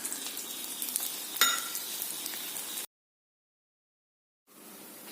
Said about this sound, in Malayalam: സൈഡ് വഴി കുറച്ച് എണ്ണ ഒഴിക്കും.